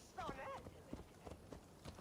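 Horse hooves clip-clopping in Assassin's Creed Valhalla, a quick run of soft hoof beats under game dialogue, with a voice speaking over the top early on.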